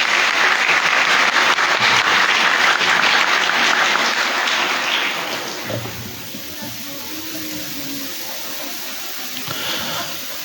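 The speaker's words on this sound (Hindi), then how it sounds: "कुछ का दिल करता है ताली बजाने का तो बजा सकते हैं एक दफ़ा ज़ोरदार।" A parish congregation at Holy Mass for the 33rd Sunday in Ordinary Time claps loudly in a dense, sustained round of applause that fades out after about five seconds, leaving quiet room tone.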